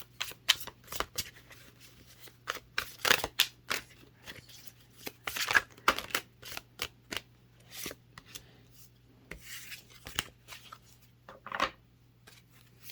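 Tarot cards shuffled and drawn from a deck during a pick-a-card reading, a run of crisp riffling and flicking bursts, close and fairly quiet, with a steady low hum underneath and no talking.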